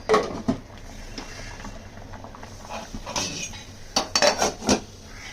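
Lids, pots and utensils clink and clatter in a home kitchen as a pot of okra curry is covered, with sharp metallic knocks near the start and a cluster of clanks toward the end.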